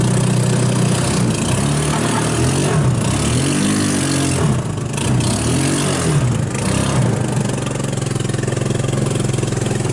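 A salvaged off-road go-kart engine drones loudly and steadily while the kart is driven, with the pitch rising and falling as it revs up and eases off, and a rough, close motor tone that never stops.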